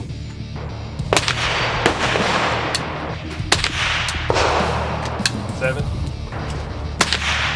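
Pellet rounds fired from a gun using .22 nail gun blanks: sharp, loud shots spaced roughly a second apart over steady outdoor background noise, with a brief spoken word between them.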